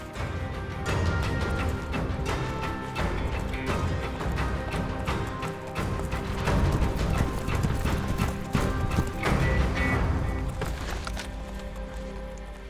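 Several horses clip-clop continuously on hard ground, hooves thudding in an uneven walking rhythm, with occasional whinnies rising over the steady footfalls.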